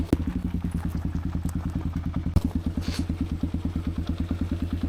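A Kawasaki KLR650 single-cylinder engine, newly swapped in after the old one blew, idles close by with a rapid, even thumping putter that stays steady for about five seconds, with a faint clatter under it.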